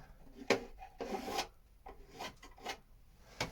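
Wood being trimmed down on a boat with a hand tool, giving several separate rasping, filing strokes of varying length, close and moderately loud with short quiet gaps between them.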